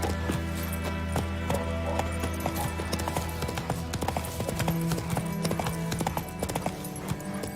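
Horse hooves galloping in The Witcher 3, a steady rapid clip-clop of hoofbeats running throughout, loud and close over a sustained low musical drone.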